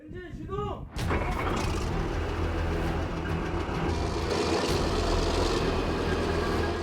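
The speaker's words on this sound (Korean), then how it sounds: "조종수 엔진 시동." A roughly 50-ton military tank's engine starts with a sudden deep roar that settles into a loud, steady rumbling idle, after a brief voice at the start.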